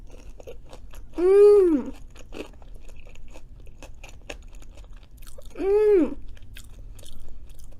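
Cajun fries dipped in mayo chewed close to the mic, soft mushy crunching and wet mouth sounds between two hummed murmurs of enjoyment.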